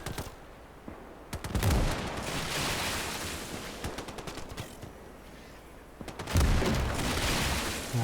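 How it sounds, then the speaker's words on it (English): Bursts of rapid gunfire and booming explosions from the WWII strategy video game Gates of Hell, loud and close, with dense rattling volleys and heavy blasts around the start and near the end. "Are those explosions coming from me, or am I being mortared?"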